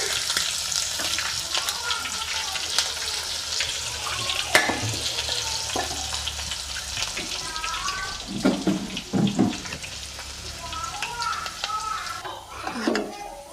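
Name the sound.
thin onion slices frying in oil for tempering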